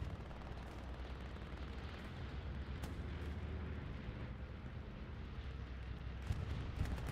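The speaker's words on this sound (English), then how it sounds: "Ooh, bombing run comes in." Bombing-run explosions in the World War II shooter Hell Let Loose, a continuous deep rumble of distant blasts that swells and rolls throughout, with no voices.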